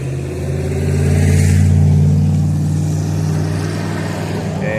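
A 1951 Hudson pickup truck engine rumbles steadily nearby at an outdoor cars and coffee meet, its low tone swelling slightly as it revs up and then settling back to an idle.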